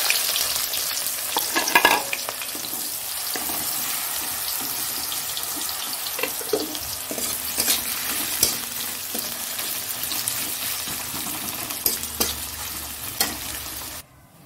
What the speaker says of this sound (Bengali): তেলটা গরম হয়ে গেছে, জিরে দিয়ে দিলাম এখানে,